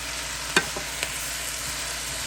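Cabbage fries in a pan with a close, steady sizzle while a utensil stirs it, leaving a couple of brief scraping knocks.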